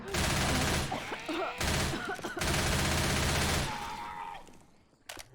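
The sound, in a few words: gunfire in video game Left 4 Dead 2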